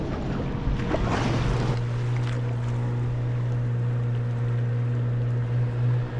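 A steady low engine hum with water sloshing around a boat rocking side to side on a lagoon near Angel Falls, a brief louder splash near the start, then continuous motor drone.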